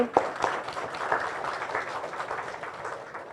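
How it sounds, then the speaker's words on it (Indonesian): Audience clapping at a media seminar in a hall, a steady wash of many hands sustained across the whole span at moderate level, with a few sharper claps standing out near the start. "Ya, boleh tepuk tangannya Bapak Ibu."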